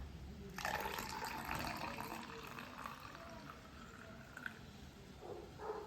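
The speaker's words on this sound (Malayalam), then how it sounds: "ഇതിലേക്ക് ഒഴിക്കാം വെള്ളം ഒഴിക്കാം" About half a cup of water is poured into a container for a homemade bubble-gun solution, giving one soft, steady splashing pour that lasts a few seconds and then fades to quiet trickles.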